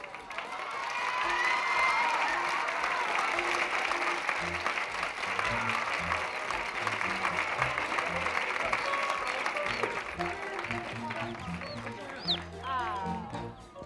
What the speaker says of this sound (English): You may all applaud.